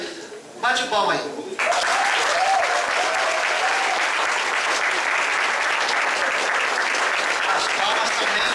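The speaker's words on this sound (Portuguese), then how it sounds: "Bate palma aí." A church congregation claps in a sustained, dense burst of applause that fills the room after a short spoken opening, continuing steadily to the end with a voice briefly audible beneath it.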